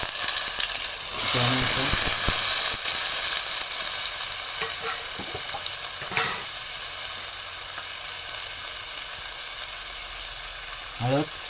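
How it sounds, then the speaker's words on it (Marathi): Onion fries in hot oil in a pan, a loud steady hissing sizzle with a few stirring clatters throughout, and a voice speaks briefly over it. "आता मी याच्यामध्ये कांदा घालणार आहे"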